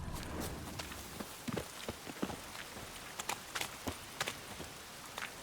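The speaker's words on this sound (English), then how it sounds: "Looks like rain." Steady rain patters across surfaces in a fantasy role-playing video game, a constant hiss broken by scattered sharper drips and taps, with no voices.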